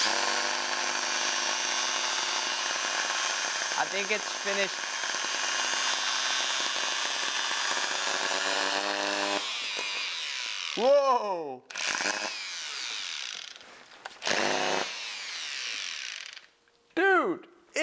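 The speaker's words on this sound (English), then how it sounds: "This is actually what you get when you buy a cheap drilling machine." A cheap drilling machine fitted for sanding in a car's engine bay runs with a loud, steady mechanical whine, then slows, spins down and restarts in short bursts toward the end while a person briefly talks.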